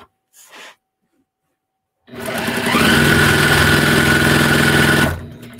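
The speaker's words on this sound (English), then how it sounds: "now you can see how fast this machine sews" A quilting sewing machine stitches fast in a long steady whir lasting about three seconds, loud and close, with a brief soft sound before it starts.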